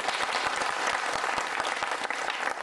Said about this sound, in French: je vous demande d'applaudir très très fort Madame Teluel Billy